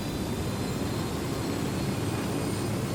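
A steady, unbroken engine drone of a helicopter in the video game Ghost Recon, constant in level throughout with a faint whine on top and no speech.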